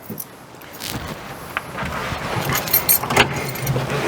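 A 1967 Volkswagen Microbus engine turns over and catches, then idles with a low rumble, with some jangling and clicks near the start.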